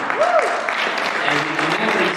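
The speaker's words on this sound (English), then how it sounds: "And that, yeah, you clap for that." Audience applause at a Republican Jewish Coalition event, a steady wash of clapping under a brief voice or cheer, fairly loud and continuous throughout.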